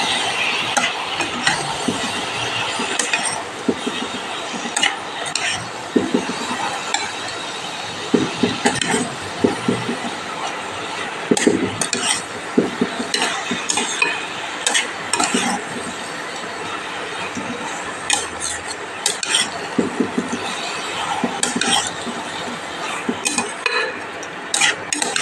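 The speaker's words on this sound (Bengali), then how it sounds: "এঁচোড়টা ঢেলে দিলাম, এটা আমি ভালো করে কষিয়ে নেব।" Raw jackfruit curry is stirred and sautéed in a pan, with steady spoon scraping, clinking against the metal and a soft sizzle running continuously for the whole stretch, close and fairly loud.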